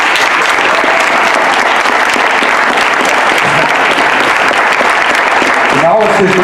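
Loud, dense theatre applause from an audience after a show, a continuous roar of clapping hands filling the space, with a voice cutting in near the end.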